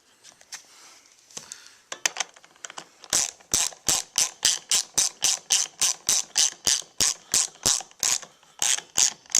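A hand ratchet snugs up a racing seat mounting bolt: after a few scattered clicks, a fast, even run of close, sharp ratcheting strokes repeats steadily to the end.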